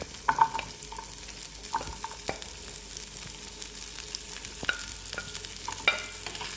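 Onion and garlic frying in about a tablespoon of oil for a paneer dish, with a faint steady sizzle and scattered scrapes and clinks of a spoon stirring the pan, no voices.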